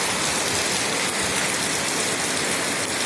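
Steady rain falling outdoors, a dense continuous hiss of drops on surfaces that stays even and loud throughout.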